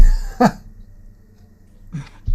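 Two sharp, close coughs from a sick person in an online board meeting, one early and one near the end, separated by a near-silent pause.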